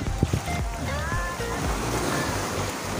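Strong sea waves slosh and splash around a kayak out on clear open water, with steady wind buffeting the microphone and a few sharp knocks of water against the hull, close and continuous throughout.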